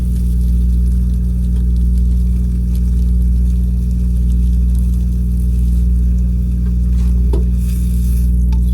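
Tacos frying in a pan with meat, a steady close sizzle that runs unbroken with a constant low hum beneath it.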